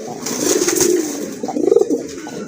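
Pigeons offered for sale at a Bangladeshi pigeon market coo repeatedly in soft, throaty bursts, several birds close by, with two swelling phrases over a low background hum.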